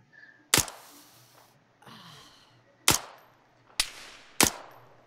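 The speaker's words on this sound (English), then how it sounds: "I'm trying to shoot them with a M16." An M16 rifle fires in the Arma 3 video game, with four sharp single shots spaced irregularly, each ending in a short decaying tail, at targets roughly 400 meters away.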